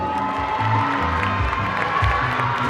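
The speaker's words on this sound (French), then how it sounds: "peut les applaudir s'il vous plaît?" Audience at a Miss Congo France pageant event applauding and cheering, with a loud crowd roar, shouts and whoops over clapping, sustained throughout.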